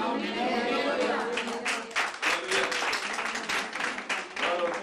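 An audience claps together in church during a Pentecost Sunday service, sustained dense applause that stays steady and loud for several seconds with a murmur of voices mixed in.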